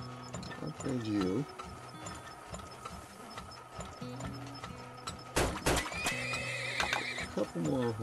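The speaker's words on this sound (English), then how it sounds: "A couple more horses." Horses neigh and whinny in the Turmoil video game, with a loud shaky call near the start and another at the end, over soft game clatter and background hum.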